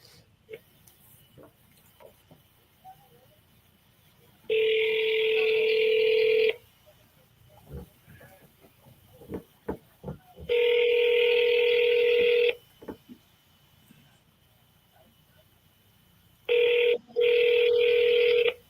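An outgoing phone call rings unanswered before being forwarded to voicemail: three loud, steady ringback tones with quieter clicks and faint handling noise between them.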